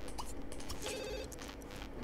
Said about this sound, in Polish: Telefon, serio, znowuż?